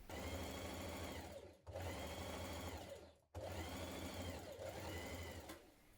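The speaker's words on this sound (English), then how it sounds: "Now with right sides together, stitch your side seams." Sewing machine stitching the side seams of a dress, a steady close mechanical whir running in three long bursts separated by brief pauses, with no talking.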